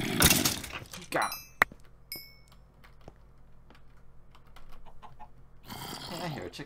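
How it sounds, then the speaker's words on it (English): A chicken in Minecraft clucks in short, bright chirps amid quiet game ambience, with occasional clicks and a person talking at the start and end. "Hey, I hear a chicken."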